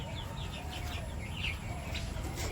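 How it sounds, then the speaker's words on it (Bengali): Small, young chickens cluck and peep in repeated short calls at close range, a steady chorus of little fowl in a village yard with a low background murmur. "এই ছোট ছোট মুরগিতেই কি সুন্দর করে ডাক পারতেছে"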